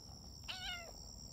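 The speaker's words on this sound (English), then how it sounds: "meow." A cat gives one short, faint meow, rising and then falling, against a steady background hum.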